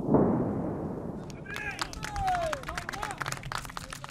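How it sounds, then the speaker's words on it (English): A loud airstrike blast rumbles at the start, followed by scattered clapping and cheering from an outdoor crowd across the Turkish border, with whistles and shouts rising over the applause. "Each blast is applauded by Turks who have gathered to watch just across the border."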